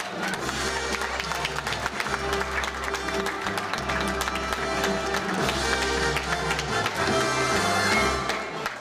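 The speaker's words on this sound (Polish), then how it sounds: "Wielkie brawa." Audience applause at a Polish fashion awards gala honouring a couture atelier, steady dense clapping sustained throughout over a low rhythmic musical backing, fairly loud and continuous.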